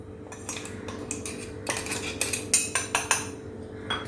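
Coarse homemade spice powder is spooned into a bowl with a metal spoon, giving a string of light clinks and scrapes that grow into quicker taps near the end, close up and with no talk.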